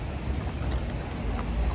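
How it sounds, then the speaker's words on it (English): Heavy rain falling in New York, a continuous loud broadband hiss with scattered droplet ticks, close and steady with no voices over it. "It's so much raining."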